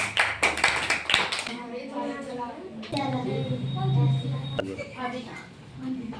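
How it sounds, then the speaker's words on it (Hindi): Children clapping in a classroom during a Children's Day lesson, a short burst of close hand claps in the first second and a half, then a teacher talking. "इनके लिए भी तालियां हो जाए।"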